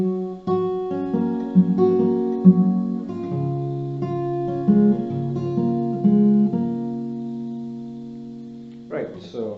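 Guitar playing the opening of the verse of a song, slow plucked notes ringing over a low sustained bass, close and clear, with a brief voice at the very end.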